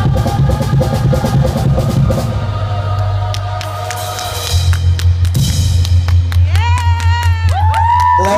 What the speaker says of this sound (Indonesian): Kita berikan tepuk tangan yang lebih meriah lagi untuk peserta dengan nomor 14, Jenny Laska Stefano.